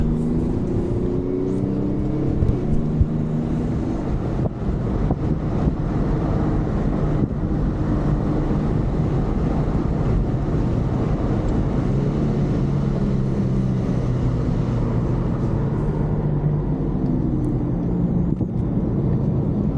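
An Infiniti G37 drives at speed around the Laguna Seca race track, heard from inside as a continuous loud engine drone with rising and falling revs under steady wind and road roar.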